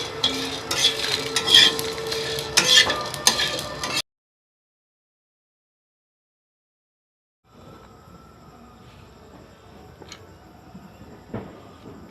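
Spices frying in a pan for a special masala with cashews, raisins and green chilies nearby, busy sizzling and stirring clatter, then a few seconds of silence before faint scattered clinks and low frying resume.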